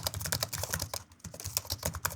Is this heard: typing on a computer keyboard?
yes